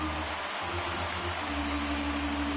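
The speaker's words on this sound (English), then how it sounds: "When it rains, it pours sometimes, and it's a downpour right now." A heavy rain downpour at a baseball game hisses as steady broadband noise, fairly faint and continuous, with a low hum underneath.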